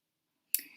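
A single sharp click of a computer keyboard key, close and alone after a brief silence.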